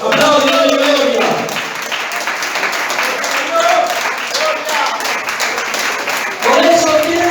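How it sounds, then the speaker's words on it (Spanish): A church congregation applauding loudly and steadily, a dense wash of clapping with shouting and cheering voices mixed in, swelling again toward the end. "Aplausos, Dios y gloria."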